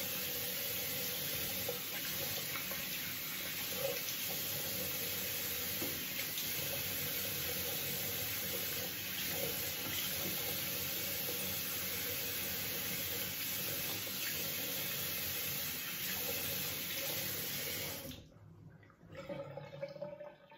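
Tap water runs steadily from a faucet into a sink while a face is rinsed between shaving passes, a continuous close wash that stops abruptly near the end with a few faint handling sounds after.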